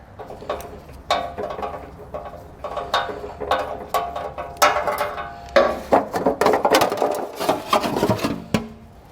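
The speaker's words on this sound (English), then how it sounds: "we're going to switch over to a hand tool, possibly a swivel socket to get that out." Ratcheting clicks and uneven metallic clatter from a hand ratchet with a swivel socket working a bolt loose under a 2021 Chrysler during a trailer hitch install, close and busy with irregular bursts and no talking.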